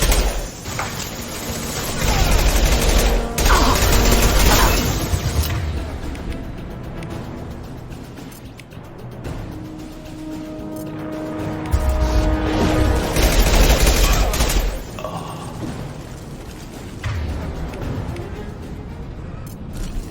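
Sustained gunfire in Mass Effect 2 as Blue Suns mercenaries and Vorcha shoot at everything, with bursts, booms and action-game clatter rising and falling over twenty seconds, with music and effects layered underneath.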